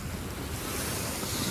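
Sea waves wash in front of the listener, a dense, steady roar of surf mixed with wind buffeting the microphone, brief and constant with no voices.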